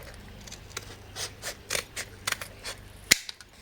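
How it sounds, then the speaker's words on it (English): Scissors snip through a cardboard toilet paper roll to shape a craft beak, several crisp close cuts in an uneven rhythm, ending with a sharper final snap. "I'm going to cut off or form the beak. So you can cut off as much as you like."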